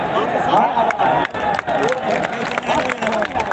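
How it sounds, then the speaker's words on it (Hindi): An audience at a Shikshamitra teachers' mass convention claps loudly to welcome a union minister, dense applause and crowd noise mixed with a voice speaking over a PA throughout. "जोरदार ताली से हमारे केंद्रीय मंत्री का स्वागत करिए"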